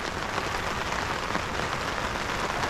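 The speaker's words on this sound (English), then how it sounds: "The rain's coming down, guys." Steady rain coming down on a wilderness hunting camp, a dense even patter and hiss on surfaces, close and constant for a few seconds with no talking.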